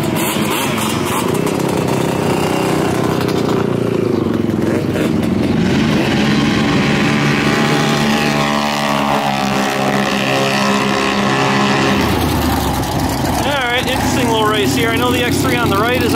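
Turbo side-by-side UTVs, including a Yamaha YXZ, Polaris RZR RS1 and Can-Am X3, race past with loud revving engines that swell and fade, while a commentator talks over the noise.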